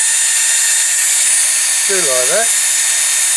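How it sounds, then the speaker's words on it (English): A drill turning slowly while restoring a Dinky Toys Mercedes-Benz 250 SE die-cast model, a steady loud whirring hum, with a short voice heard briefly over it. "in the drill it turns slower"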